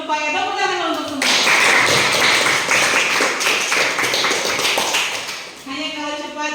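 Classroom applause during a teaching performance session, a dense burst of many hands clapping that starts after about a second and runs steadily for roughly four seconds, with voices speaking before and after.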